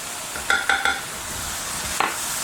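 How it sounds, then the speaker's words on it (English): Balsamic pork chops are stirred in a sizzling pan, with a steady hiss underneath three quick clinks of a utensil and one more later on, close and alone. "So I'm just going to give it a quick stir."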